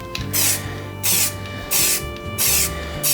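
Four short bursts of etch primer spray paint for stainless steel, each a loud hissing spray about half a second long, with brief pauses between them.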